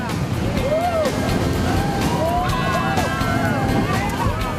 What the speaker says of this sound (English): you can feel the thrust of those 900 horsepower motors